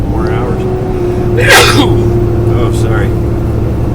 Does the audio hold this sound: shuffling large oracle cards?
no